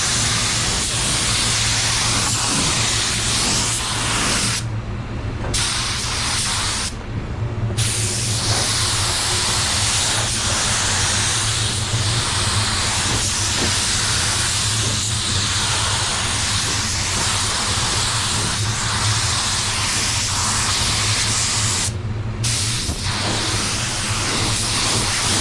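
A spray gun hisses steadily as it lays down metallic black PPG waterborne paint. The broad, loud spray runs almost without a break, stopping only for a few short pauses.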